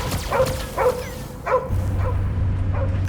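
Cosmo, the space dog in Guardians of the Galaxy, barks four or five times in sharp close yelps, then a steady low hum carries on.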